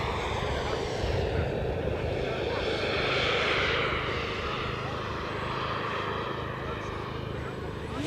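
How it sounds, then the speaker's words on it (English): A model jet aircraft makes a slow pass at the Cosford model airshow with wing flaps and an underbelly air brake deployed, a steady broad engine roar that swells and fades slightly, with a voice commentating over it. "the model slows down really nicely thanks to powerful wing flaps and an underbelly air brake"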